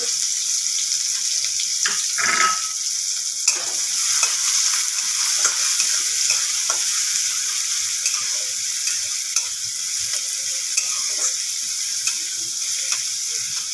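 Chopped onions sizzling in oil as they fry to a reddish brown, a constant hissing crackle with occasional stirring scrapes, close and steady throughout with no talking.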